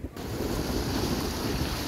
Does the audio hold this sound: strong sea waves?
yes